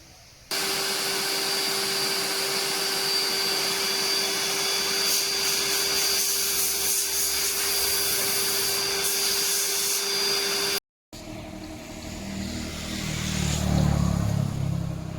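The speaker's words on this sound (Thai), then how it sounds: "เดี๋ยวเราจะได้จัดการดูดฝุ่น ที่มัน เกาะอยู่ภายในตรงนี้นะ" A vacuum cleaner sucks dust from inside an air conditioner unit during repair work, running with a steady loud whine and hum, briefly cutting out, then resuming with rougher rumbling.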